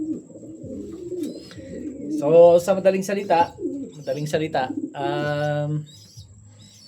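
Pigeons, including Janssen De Klok racing birds, coo in a loft with about thirty birds, soft repeated calls heard under someone speaking Tagalog.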